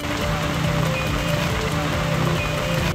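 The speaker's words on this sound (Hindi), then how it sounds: "वडोदरा में पिछले कई दिनों से लगातार भारी बारिश हो रही है" Heavy monsoon rain in Vadodara, Gujarat, pours in a continuous loud hiss and patter over a low background rumble.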